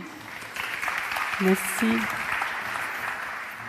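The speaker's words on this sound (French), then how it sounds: "Applaudissements pour elle, s'il vous plaît" An audience at a French talk on the four-day work week applauds a guest from Asana, steady clapping beneath a brief spoken thanks and some voices.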